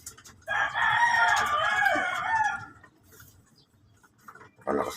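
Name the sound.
rooster crowing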